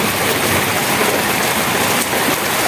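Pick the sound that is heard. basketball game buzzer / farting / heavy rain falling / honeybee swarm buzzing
heavy rain falling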